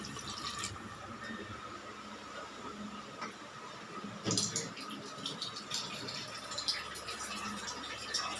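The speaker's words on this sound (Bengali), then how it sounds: "চলো জল ঢেলে দিচ্ছি দেখো।" Water poured out in a steady, continuous splashing stream, heard close and fairly quiet with a brief louder gush midway.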